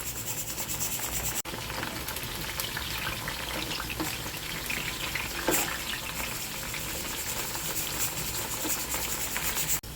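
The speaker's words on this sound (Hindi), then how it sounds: "भिंडी को हमने तेल में डाल दिया है। अब इसको हम चलाते हुए हल्का सा फ्राई कर लेंगे" Bhindi (okra) fries in hot oil while being stirred, giving a dense, steady sizzle throughout, with scraping stirs and a couple of sharp clicks from the pan.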